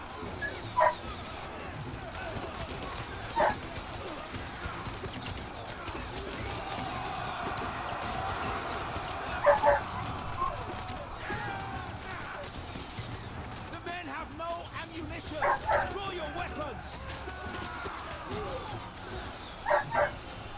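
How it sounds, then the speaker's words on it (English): A dog barks in short sharp bursts in the background, several separate yaps scattered across the clip, behind a continuous bed of battle sounds from Total War: Three Kingdoms, with a few whimpering notes mixed in. "Apologize about my dog. He seems to be barking in the background here."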